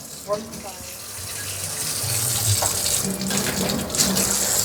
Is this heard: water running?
yes